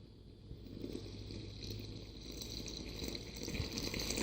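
Water is poured steadily into flour for artisan bread dough, a soft continuous splashing trickle that grows slightly louder as it fills, with no talking.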